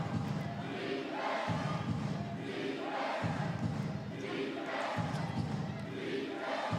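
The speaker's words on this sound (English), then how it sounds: "Home crowd trying to get into this one." A home crowd at a British Basketball League trophy game between Plymouth and Surrey roars steadily in an arena, with rhythmic thumping chants and drum-like beats pulsing about every second and a half, no commentary over it.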